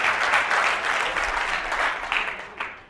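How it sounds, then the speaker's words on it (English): A seminar audience claps in steady, continuous applause that fades slightly toward the end, heard fairly close and alone without talk. "Well, applaud them."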